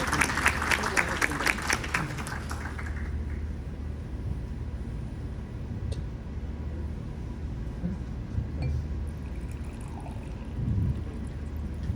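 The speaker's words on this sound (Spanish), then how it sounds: "Démosle un fuerte aplauso." A conference audience applauds a speaker, a dense burst of clapping for about three seconds that then fades into a low murmuring room hum.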